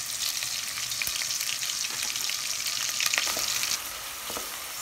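Onion frying in hot oil in a pot, a loud continuous sizzle close up with brief stirring crackles rising near the end, no voices.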